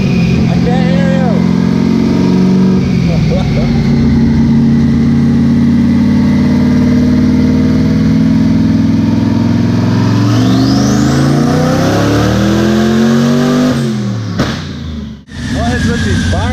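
A 1000+ hp car engine on a dyno roars loud and close, holding a heavy high-rev drone that climbs and sweeps in pitch before cutting off abruptly near the end, with a brief pop and a quieter tail.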